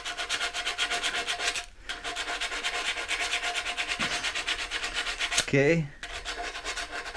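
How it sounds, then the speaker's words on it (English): Rhythmic rasping strokes of sanding smooth the sharp edges of a cut scooter handlebar, loud and close with brief pauses, and a short spoken word near the end. "This side still has sharp edges, so I will sand it off."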